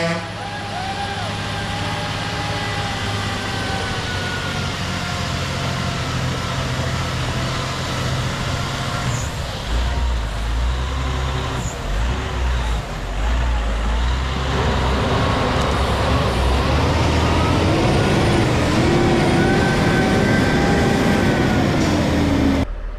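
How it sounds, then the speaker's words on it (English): A truck labours up a steep driveway hill, its low engine rumble and road noise building steadily and growing louder toward the end, with people talking nearby. "He made it up the steep hill, but..."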